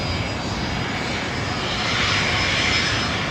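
Alliance-liveried Qantas Link Embraer 190 jet at Brisbane Airport, heard as a steady, loud engine roar that swells slightly toward the end, with no talk over it.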